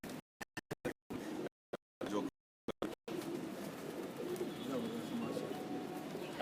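Pigeons coo softly on a rooftop, with faint repeated low calls over background noise after a choppy, broken start. The sound is quiet and somewhat distant.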